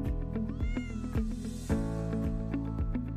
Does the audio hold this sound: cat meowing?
yes